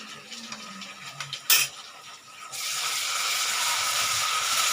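Ginger garlic paste frying in a pan for brinjal masala gives a steady, bright sizzling hiss that swells and holds loud after a brief clink, close up with no talk.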